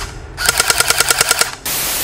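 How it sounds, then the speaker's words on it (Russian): Cyma CM121 Desert Eagle airsoft pistol fired in automatic mode: a close, rapid burst of about ten sharp clacking shots, followed by a brief steady hiss. "Этот пистолет имеет режим автоматической стрельбы."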